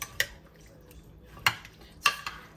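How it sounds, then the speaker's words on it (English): A spoon mixes chicken pot pie filling made with chicken broth and cream of chicken soup in a bowl, giving three quiet, well-spaced clinks against the dish over a soft background. "And let's just mix this up together."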